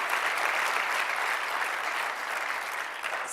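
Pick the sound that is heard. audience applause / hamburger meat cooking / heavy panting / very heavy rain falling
audience applause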